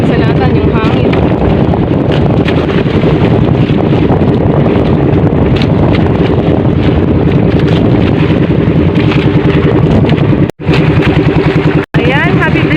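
Wind roars loudly and steadily across the microphone on a fishing boat heading out to sea, with engine drone and wave wash mixed underneath, broken by two abrupt short dropouts near the end.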